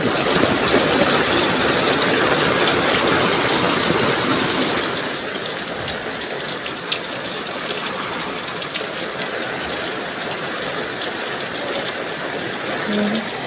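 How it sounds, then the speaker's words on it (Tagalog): Steady heavy typhoon rain pours down with gusty wind and rushing floodwater in La Union, Philippines, a constant rushing wash of water, loud and continuous throughout, with no voices. "muling binayo ng baha at pabugso-bugsong hangin at ulan"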